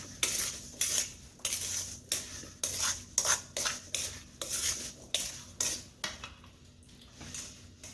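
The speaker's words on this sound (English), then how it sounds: "Stir that around." Smoked fruit crisp filling stirred with a utensil in a pan, giving a steady run of about a dozen rhythmic scraping, clinking strokes, close and fairly loud with no voices.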